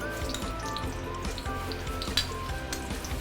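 Oil and onion oil sizzling steadily in a hot wok for Singapore-style fried rice noodles, a dense crackling fry with a few light clinks of utensil against the pan, close and alone without talk.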